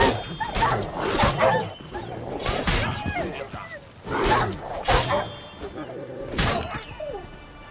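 Dogs in The Witcher 3 fighting during combat, with several loud snarling barks and yelps coming in bursts amid clashing, crashing impacts, close and dense throughout.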